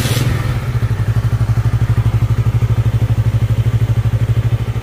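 A Honda CB150 motorcycle engine idles close up, a steady, even putter of rapid thumps with no talk over it.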